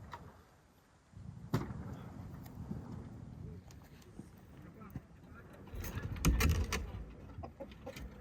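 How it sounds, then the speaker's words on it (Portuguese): Chickens cluck while being fed in a rural mountain village in the morning, with scattered clucks and rustling that grow busier toward the end, and a faint voice in the background. "minha esposa já está alimentando as galinhas e recolhendo ovos frescos"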